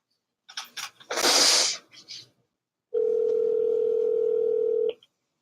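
A telephone handset gives a steady, loud single-pitched dial tone for about two seconds, preceded by a burst of rustling noise that sounds like a sneeze.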